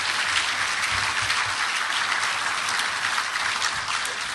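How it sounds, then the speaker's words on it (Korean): Audience applause at a commemoration ceremony and dinner marking the fifth anniversary of the 10.4 inter-Korean summit declaration, steady and dense clapping from a large crowd that holds evenly throughout. "박수를 부탁드립니다"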